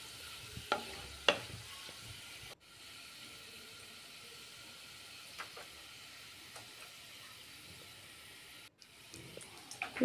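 Garlic frying in a pan and being stirred, a steady close sizzle and hiss with a few scraping stirs near the start and end, no voices.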